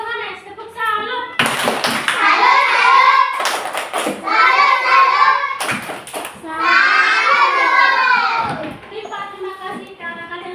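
Children in a Catholic religion class chant a rhythmic clapping cheer together, their sung voices broken by several sharp bursts of group claps close by.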